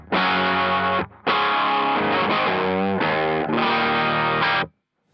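A Carvin CT6 electric guitar with C22 humbuckers played through a clean amp setting, with three sustained, ringing chord passages separated by short breaks, close and loud, ending in silence.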